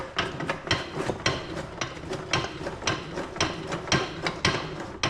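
A pulley is pressed onto the water pump of a John Deere Dubuque two-cylinder tractor engine; close, steady mechanical clicking and ratcheting from the press repeats in an uneven rhythm throughout.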